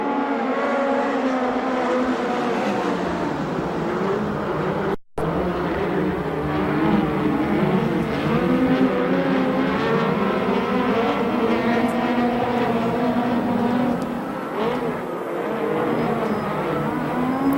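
USAC/CRA sprint cars and Western States midgets racing at Perris, California, engines roaring continuously as a pack circles the dirt oval, loud and sustained with rising and falling pitch, a brief dropout midway.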